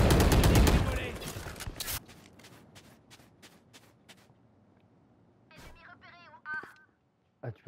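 Rapid bursts of automatic gunfire in the shooter game Valorant, loud and dense at first, then sparser single shots, with brief voice-like sounds later on.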